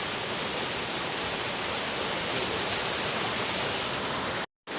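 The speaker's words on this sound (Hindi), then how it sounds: "और यहाँ से बहता हुआ ये पानी।" Small river flowing past a bridge in a mountain village, a dense steady rush of water that fills the whole stretch, close and constant, cut by a short silent gap near the end.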